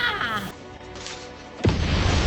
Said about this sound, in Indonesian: Tanknya udah meledak.